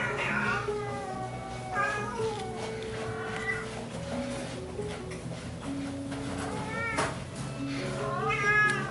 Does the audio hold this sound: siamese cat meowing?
yes